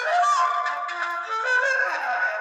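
An Otamatone Neo set to its flute effect plays a breathy, wavering tone that slides up and down in pitch, close and clear, with no talk over it.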